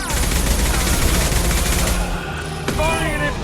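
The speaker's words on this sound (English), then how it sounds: "Firing an impact gun!" An impact gun fires in Mass Effect 2, a loud rapid burst of shots that runs for about two seconds. A sharp crack follows shortly after the burst, with fainter ringing behind it.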